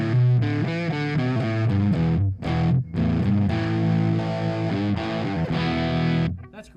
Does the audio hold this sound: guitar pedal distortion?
yes